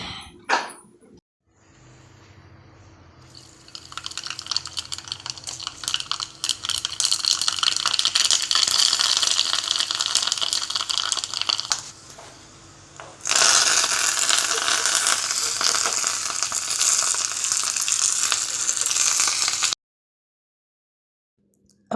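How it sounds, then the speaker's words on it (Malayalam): Hot tempering is poured into a coconut-based curry, bursting into a loud, continuous crackling sizzle that fades briefly, surges again, then cuts off. "ഇനി ഇതിലേക്ക് നമുക്ക് വറവിട്ട് കൊടുക്കാം."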